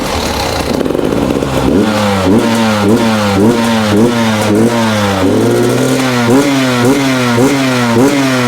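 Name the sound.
motocross motorcycle engine revving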